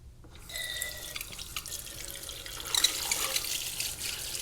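Water runs steadily from a salon sink sprayer at lukewarm, medium pressure while hair is rinsed from the top of the head, a continuous close hiss that swells louder near the end.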